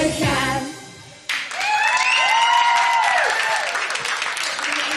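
Applause for young talent from Limburg at a televised event: a brief musical ending gives way to sustained, fairly loud clapping from an audience, steady and close, with a tonal sweep under it.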